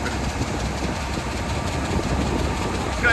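A big 8320 tractor engine pulls an air seeder on a farm, a steady loud low rumble with constant vibration and no clear voices over it.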